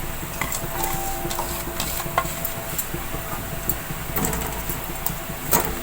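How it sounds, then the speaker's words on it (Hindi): Two long-sliced, rinsed onions browning in hot oil over low heat for a chicken curry, giving a steady, close sizzle with occasional scrapes and stirring clinks of a utensil against the pan throughout. "अब इसी ऑयल में मैं प्याज को ब्राउन कर लूँगी।"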